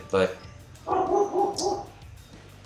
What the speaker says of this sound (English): if you heard my dog barking